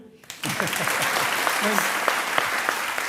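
Applause from a studio audience at a televised courtroom-style political interview show swells in after a short pause and continues steadily, with a faint voice speaking underneath.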